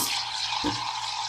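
A Wirsh 15-bar espresso maker's steam wand froths milk with a steady hissing, airy sizzle, close and continuous, with a brief gurgling dip in the middle.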